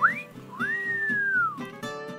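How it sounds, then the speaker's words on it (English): A wolf whistle: a short rising note, then a long note that climbs and falls, clear against a quiet room. "Whistling at women hasn't been cool since ancient times."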